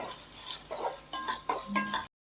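Cashews and chopped coconut frying in ghee for Ada Pradhaman payasam, a soft close stirring and light sizzle with a few scrapes, then abrupt silence near the end.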